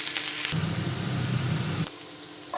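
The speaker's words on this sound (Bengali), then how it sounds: "এখন আমি এই অনিয়নগুলোকে সামান্য একটু আর একটু ফ্রাই করব যাতে করে সামান্য আর একটু রোস্ট হয়" Onions frying in a pan for chicken shawarma rice, a loud steady sizzle that swells for about a second and a half in the middle, then settles back to a softer crackle, with no talking.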